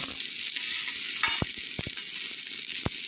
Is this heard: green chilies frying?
yes